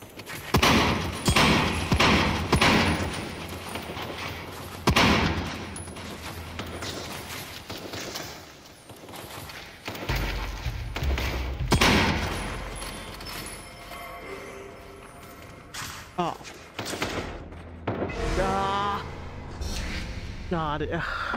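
Gunfire and breaching blasts in The Light Brigade, sharp shots and thumps in scattered bursts with loud impacts, mixed with a person talking throughout.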